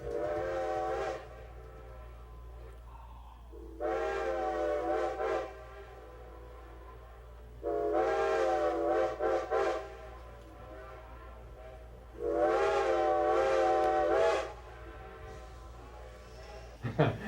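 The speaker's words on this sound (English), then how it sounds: "sometimes when we blow our whistle here at Carpenter's Crossing" A steam train whistle on the Strasburg Railroad blows four long, harmonically rich blasts separated by pauses, each lasting a couple of seconds, loud and clear over a low rumble.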